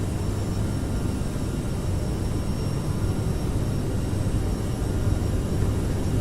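An Aerosoft CRJ700 airliner's jet engines roar through a takeoff roll in Microsoft Flight Simulator, departing Vancouver (CYVR). The roar is loud, steady and continuous, with no talking.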